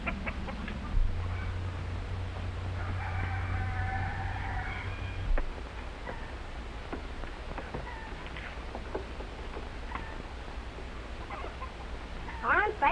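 Pigeons in a farm coop give soft fowl-like calls and cluck-like sounds at moderate distance, with a brief burst of calling early on and faint voices in the background.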